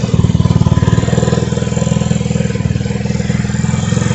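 A 2021 Vitacci 150cc scooter with a stock Chinese carburetor idles close by, a loud, steady, rapid putter of the small engine holding an even rhythm throughout.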